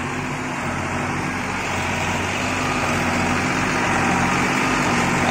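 A vehicle engine strains under load without pulling, giving a steady, droning mechanical roar with a low hum that slowly grows louder, close and continuous, with no talking.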